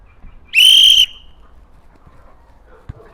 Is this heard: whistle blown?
yes